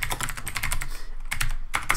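Rapid typing on a computer keyboard while coding, a dense close run of key clicks with a short pause midway before the tapping resumes, loud and alone without speech.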